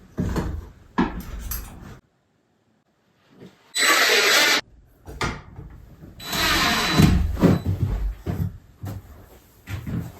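Handmade wooden cabin door in an off-grid cabin, swung open and shut to test newly mounted hinges: close thuds and wooden knocks, scraping rubs and a couple of longer sustained rustling stretches between short silences.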